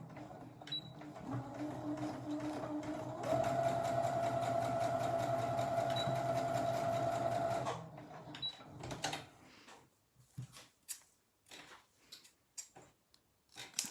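Sewing machine stitching a seam on fabric for a fabric daffodil, a steady mechanical whirr for several seconds that ends in scattered clicks and small handling noises.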